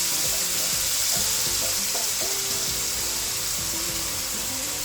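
Blended red chili and garlic fry in hot oil with a dense, steady sizzle, broken by a few clinks and stirring scrapes close by, and no voices.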